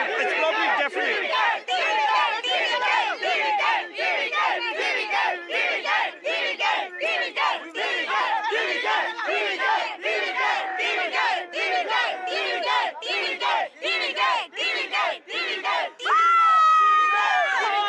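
A huge crowd of supporters, waiting three days for good news, roars and chants continuously in loud, rhythmic waves of shouting and cheering.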